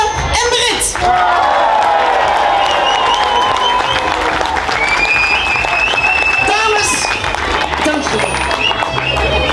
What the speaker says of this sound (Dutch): Een applaus voor Rianne en Britt.